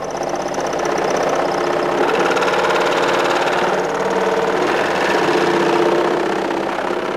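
Aircraft electronic equipment shakes on a vibration tester, giving a loud, steady mechanical buzz and rattle that holds at an even level throughout, with no voices.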